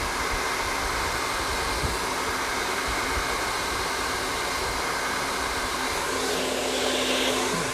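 Hair dryer with a nozzle blow-drying hair, a loud, steady whooshing roar with a constant motor hum, running close and uninterrupted with no talking.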